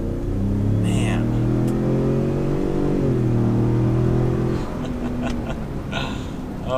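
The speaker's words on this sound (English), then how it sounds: "for a luxury truck like this, that acceleration is pretty awesome" 2019 Ford F-150 Limited luxury pickup with a Raptor engine accelerating hard from inside the cab, its engine note climbing through rising gear pulls before easing off.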